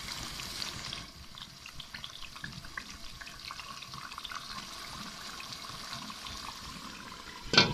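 Meat for biryani cooks covered in a pot, a soft steady sizzling hiss that runs evenly throughout, close and moderate, ending in a brief clatter, with no voices.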